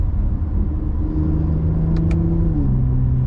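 A Toyota Camry XSE V6 with an 8-speed automatic holds third gear through a corner, a steady low engine hum and road rumble from inside the cabin that shifts pitch slightly near the end, with two faint high chirps midway.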